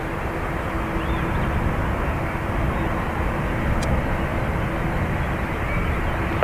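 A steady, fairly distant roar from an Airbus A330 airliner carries on without a break at Dublin Airport's north runway, as it prepares to depart for Boston, with no voices over it.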